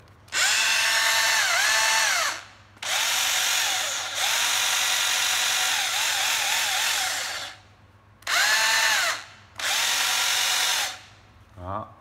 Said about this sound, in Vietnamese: Chế độ búa đó nha mọi người, chế độ không búa này.